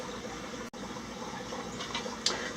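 Water pours steadily into a shrimp tank on a shrimp rack, a continuous close splashing and trickling flow with a brief break partway through and no talk.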